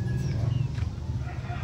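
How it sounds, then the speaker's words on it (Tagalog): Chickens cluck and squawk close by in short, overlapping calls, a busy little burst of farmyard fowl noise. "Nagkalat ang mga manok."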